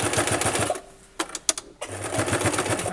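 Sewing machine stitching fabric pieces for a small bag, running fast and close, pausing briefly with a few sharp clicks in the middle, then resuming its steady whir.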